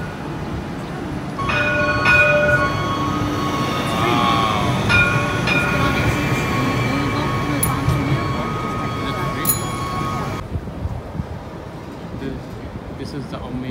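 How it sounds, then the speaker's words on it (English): A streetcar passes close by on a downtown Cincinnati street, a steady loud rumble with squealing, whining wheel tones and a bell-like chime before it cuts off, leaving street ambience. "Streetcar coming up."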